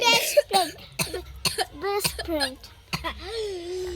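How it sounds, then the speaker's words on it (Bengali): A child coughs close by in short, repeated bursts, several coughs spread over a few seconds with brief vocal sounds between them. "কাশি হয়ে গেল"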